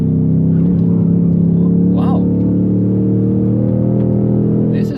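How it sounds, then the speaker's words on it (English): A Ford Mustang Dark Horse engine drones steadily at close range on the Nürburgring, a loud sustained hum with a brief rev-matching blip in pitch on a downshift. "It also comes with rev matching on downshifting."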